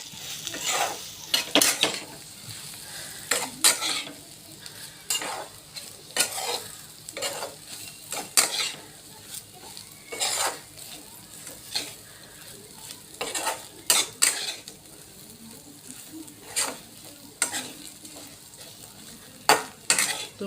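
Food being stirred and sautéed in a pan, a spoon scraping and knocking against the metal in repeated irregular strokes over a soft continuous sizzle, close by with no talking.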